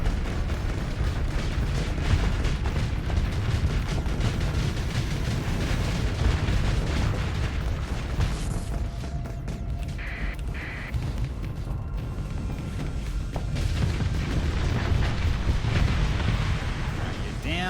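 A station explodes in the space game Starsector with a sustained, rumbling, noisy blast that stays loud and dense throughout, laid over low engine-like drone.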